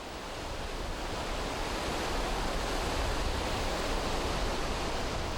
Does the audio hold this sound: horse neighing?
no